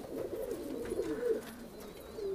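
A female Kashni pigeon coos close by, a soft, low, continuous warbling murmur that rolls on throughout.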